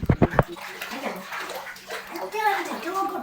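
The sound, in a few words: mixing magnesium flakes into bath water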